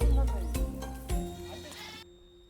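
Black goats bleat on a mountain on an island, several loud, close, wavering calls following one another over about two seconds, with a faint voice in the background.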